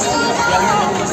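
Dense crowd at the Samaleswari temple in Sambalpur, a loud continuous hubbub of many overlapping voices close by, with a speaker talking over it.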